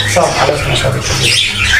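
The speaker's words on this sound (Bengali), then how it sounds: "দর্শক এই যে এখানে দেখতে পাচ্ছেন এক জোড়া জামা পাখি" Caged aviary birds at a bird farm give loud, harsh squawks and chatter close by, filling the whole brief moment.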